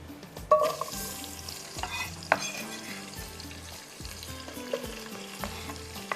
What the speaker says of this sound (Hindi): इसके अंदर जाएगा ये प्याज